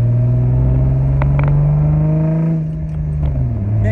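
A 2001 Ford Mustang with a V6 engine driving, its steady droning engine hum holding an even pitch before easing off briefly near the end, heard from inside the car with no talking.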